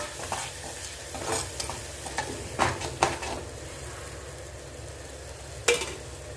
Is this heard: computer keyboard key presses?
no